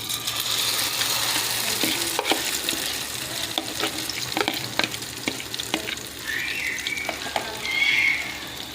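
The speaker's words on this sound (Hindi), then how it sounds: "तो अब हम इसमें डालेंगे ये अपना अंडे वाला मिक्सचर" Egg omelet mixture frying in a couple of spoons of hot oil, a steady loud sizzle and crackle with occasional sharp pops and a brief higher hiss near the end, no voices.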